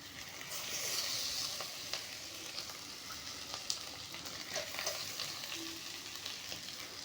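Potatoes sizzle and fry in hot oil in a pan for a Rohu fish curry, a steady, fairly quiet crackling hiss with occasional stirring clicks and no talk.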